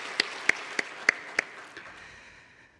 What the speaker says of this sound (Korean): 수요 찬양단도 격려의 박수 한번 보내주시기 바랍니다